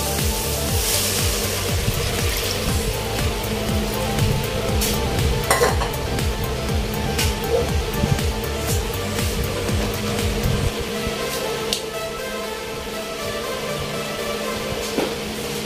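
Shrimp sinigang broth cooks in a pot with a steady simmering sizzle and occasional clinks of a utensil against the pot, continuous and close, with no talking.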